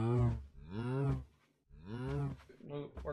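A cow from the Stoneblock 2 modpack in Minecraft, a fluid molten clay cow, lets out two long, loud, close moos separated by a brief pause, with a short third call starting at the end.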